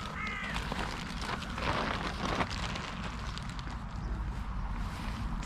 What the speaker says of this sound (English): Here's our little crows.